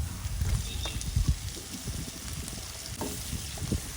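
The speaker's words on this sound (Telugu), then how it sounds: "వేసుకున్న ఆనియన్స్ పచ్చిమిర్చి అల్లం వెల్లుల్లి పేస్టు టమోటోలు అన్నిటినీ ఇలా బాగా వేయించుకోవాలి" Onions, green chillies, ginger-garlic paste and tomatoes fry and get stirred in a pan, a continuous close sizzle broken by soft scraping stirs, without talking.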